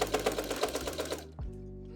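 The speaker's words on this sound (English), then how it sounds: "I'm only going to sew to the armpit area" A sewing machine stitches an embroidered piece onto a sweatshirt with a quick, steady, close whirring run, then stops abruptly and leaves a low, steady hum.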